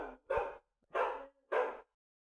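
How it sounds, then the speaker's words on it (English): Dog barking in the background of a home programming livestream, three distinct barks spaced about half a second apart, moderately loud and muffled, with no talk over them. "I have no idea how loud the dog is."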